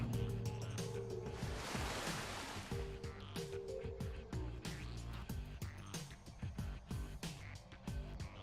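A level 2 water elemental spell cast in Shadowrun Returns, sounding as a sustained rushing, surging wash of water like surf, continuous and loud across the whole stretch with tonal game music underneath.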